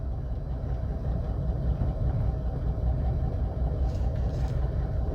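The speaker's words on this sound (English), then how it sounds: "Sounds like we got a little cam in her with that exhaust leak" A 1958 Oldsmobile engine idles roughly with a cam and an exhaust leak, giving a low, uneven exhaust burble, steady and moderately loud throughout.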